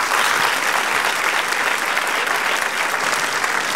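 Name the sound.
audience applause for Grig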